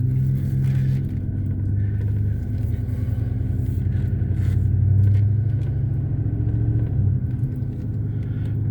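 A 2007 Chevy Silverado truck driving, heard from inside as a steady low engine rumble and road drone that swells slightly mid-way, with no talking.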